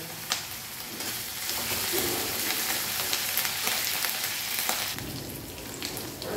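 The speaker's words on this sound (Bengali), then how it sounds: "এটা আমাদের ভাজা হয়ে গেছে ভালো করে আদা রসুন পেঁয়াজটা।" Ginger, garlic and onion paste fries in a pan with a steady, close sizzle and occasional light stirring scrapes, no voices.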